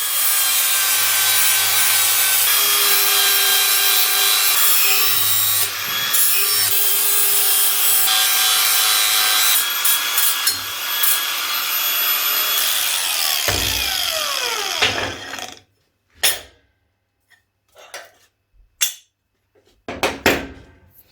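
Steel engine stand plates are deburred along their sharp edges with a power tool, a steady loud abrasive whine running for about fifteen seconds before winding down into a few short scraping bursts and pauses.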